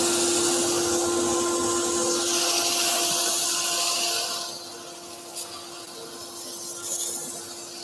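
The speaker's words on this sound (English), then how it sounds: "we're going to have dust extraction going now because we're going to create a huge amount of dust on this" Dust extraction in a woodturning workshop roars with a steady, loud broadband whoosh and a fixed whine, then drops slightly quieter partway through, with a few faint knocks.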